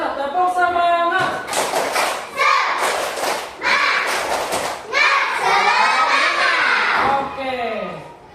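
A group of children chanting in unison with bursts of rhythmic clapping and thumping in a classroom, shouted words alternating with loud clusters of claps, close and energetic.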